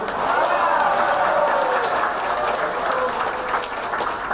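An audience at a speech by the Indonesian President breaks into dense, steady clapping that carries on for over four seconds, with a voice talking over it.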